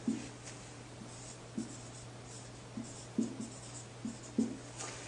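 A black marker squeaks against a board in short, separate strokes while a diagram of animal body layers is labelled, quiet and close, with brief pauses between strokes and a steady low hum underneath.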